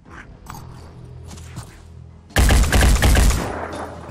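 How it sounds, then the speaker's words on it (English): Gunfire in the tactical video game Phoenix Point, a loud, dense burst of overlapping shots that cuts in abruptly after quieter game ambience and rattles on for nearly two seconds before tailing off. "Now that was a lucky shot."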